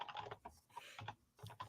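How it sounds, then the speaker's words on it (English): Typing on a computer keyboard during an online arbitrage live stream, a quick burst of soft key clicks in short clusters with brief pauses, close but fairly quiet. "we got the sound of Cody typing it into his browser"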